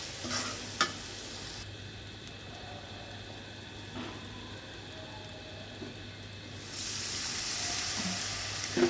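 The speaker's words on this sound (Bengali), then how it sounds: "হলুদ, পরিমাণ মতো ধনিয়া দিয়ে মশলাটাকে ভালোভাবে কষিয়ে নিব।" Spice paste with turmeric, chili powder and coriander being sautéed in a pan, a soft steady sizzle with occasional stirring scrapes, moderately faint and with no talk.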